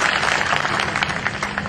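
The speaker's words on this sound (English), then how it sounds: "it is always nice to hear applause" A crowd at a political rally claps together in a dense, loud, sustained burst of applause with no voice over it.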